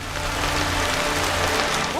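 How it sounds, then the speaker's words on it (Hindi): Heavy rainforest downpour roars steadily and loud throughout, a dense continuous hiss of rain falling on leaves and surfaces with no break. "अब वाकई में बारिश हो रही है।"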